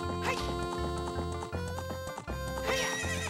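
A horse in The Legend of Zelda: Ocarina of Time, rhythmic galloping hoofbeats under game music, with loud whinnies near the start and end.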